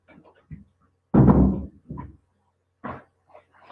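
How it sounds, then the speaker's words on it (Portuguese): An indoor door is pushed shut in a room, producing one loud solid thud with a short rumble, between quieter handling bumps and soft knocks. No one speaks. "Vou fechar a porta aqui que abriu"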